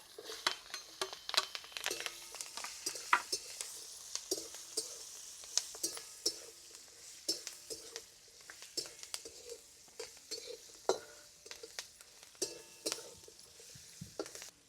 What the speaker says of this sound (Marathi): मिरच्या आपल्या तेलामध्ये एक ते दोन मिनटं परतून झालेल्या आहेत